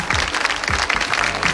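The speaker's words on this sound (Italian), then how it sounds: "Facciamo subito una prova dell'applauso?" An audience at a Miss Venice Beach pageant event in Sottomarina claps in a test round of applause, a dense steady wash of hands, loud and close.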